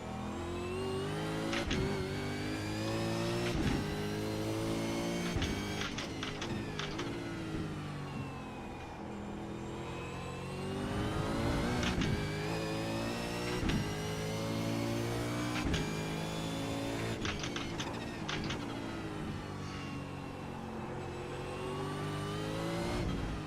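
V8 Supercar engine in the iRacing simulator at Winton, a loud continuous engine note rising and falling through gear changes and revs as the car slides around, close and unbroken with no talk.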